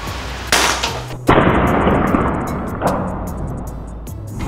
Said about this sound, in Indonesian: itu tadi ya, beberapa tembakan yang mengenai sasaran